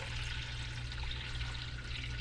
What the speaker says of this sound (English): I'm just putting my warm water in there